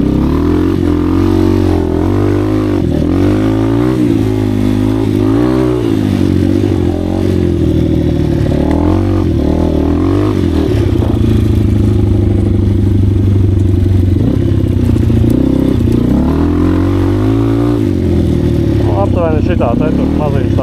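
An Asix Defender 150 motorcycle rides a sandy bog track, its small engine droning loud and steady throughout with rising and falling revs as the rider works up a slope, with clattering from the rough ground.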